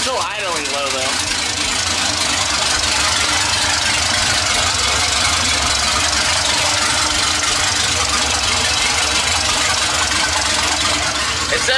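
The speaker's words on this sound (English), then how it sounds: "It's definitely still idling low." A Mustang with an LS engine swap and long-tube headers runs steadily at a low idle with a constant rumble and some rattling, loud and close, continuing throughout.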